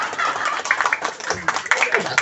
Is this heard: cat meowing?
no